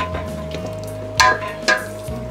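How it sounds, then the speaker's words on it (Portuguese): Onion and bell pepper being stirred in a pot for Portuguese fish soup with tomatoes, a soft sizzle under a steady tone, broken by two sharp scraping strokes of the spoon, close and clear. "E o pimentão, e vamos então mexer muito bem"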